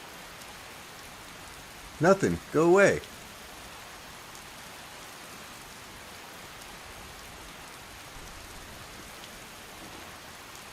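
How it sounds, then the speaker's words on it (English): Steady rain falls in the video game Skyrim, modded with Obsidian Weather, as a soft, even hiss that runs the whole way through. A voice speaks briefly near the start. "Well, we got some rain."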